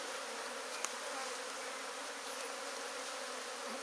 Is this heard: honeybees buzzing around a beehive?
yes